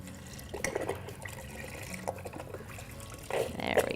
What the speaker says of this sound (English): we're gonna add 4 cups of beef broth, which is this whole entire container